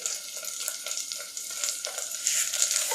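Onion, chopped garlic and asafoetida sauté in hot oil in a pan for idli sambar, giving a steady, close sizzle with light stirring scrapes throughout.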